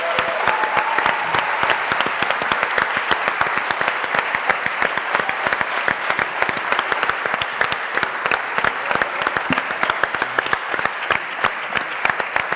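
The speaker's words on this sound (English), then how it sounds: "So a big round of applause." Sustained audience applause at the final gala of a startup idea challenge, greeting the third-place team; dense, even clapping fills the room for the whole stretch, loud and steady without a break.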